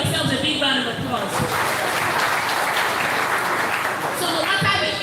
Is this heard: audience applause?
yes